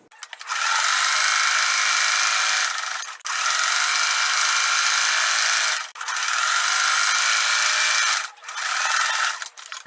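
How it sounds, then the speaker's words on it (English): A sewing machine zigzag-stitches around a skirt made from two upcycled shirts, running in three long, steady buzzing stretches separated by brief pauses. "And now I'm going to zigzag all around."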